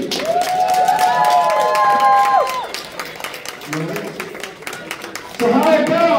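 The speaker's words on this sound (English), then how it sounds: "you best be clapping for Little Whiskey" A crowd claps and cheers at a birthday celebration, with loud speech over the applause throughout.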